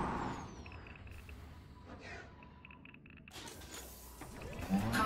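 A cargo scoop retracts on a ship in the space game Elite: Dangerous, giving off a soft mechanical hiss and whir with a few clunks. It ends in a louder release and thump.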